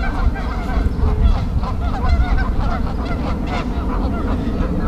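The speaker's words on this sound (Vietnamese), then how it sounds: "Nhưng mà giờ thấy vắng bóng, chỉ có ngỗng không." Geese honk repeatedly in a busy, overlapping chorus at a pond, fairly close and steady, with no talking over them.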